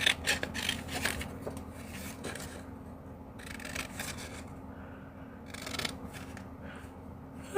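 Quiet, repeated snipping and rasping of scissors working through paper, in irregular bursts with short pauses between cuts.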